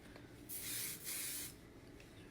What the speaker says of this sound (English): Let me spray it before I take this one down